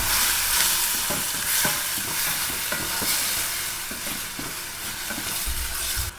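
Onions and tomatoes sauté in a pan for a country chicken fry, a steady close sizzle with repeated scraping stirs of a spoon against the pan.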